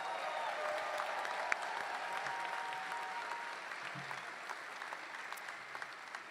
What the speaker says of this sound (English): Can we get one more huge round of applause for all of our inductees today?